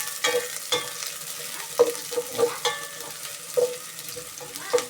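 Spring onions fry in a pan for a sardine stew, with a low sizzle broken by several sharp clinks and scrapes of a utensil stirring against the pan at an uneven rhythm.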